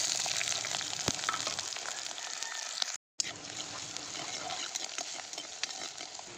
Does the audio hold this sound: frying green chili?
yes